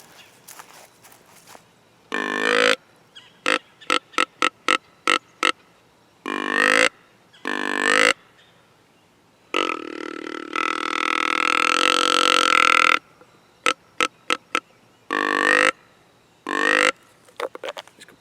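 Deer grunt call on its deepest setting imitates a mature buck, giving a series of short, deep grunts in clusters and one long drawn-out grunt, close and loud between silent gaps.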